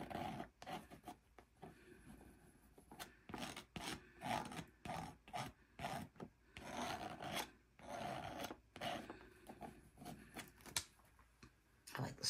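Paint is scraped across a gelli plate in repeated short rasping strokes, close and quiet, with irregular rhythm and brief pauses between passes.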